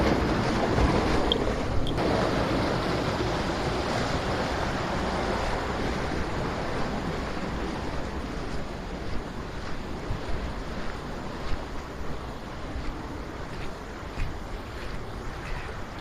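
The Cisurian river flowing in a rural setting near a sacred spring, a steady broadband rush of water mixed with wind noise, continuous and fairly close with no talk.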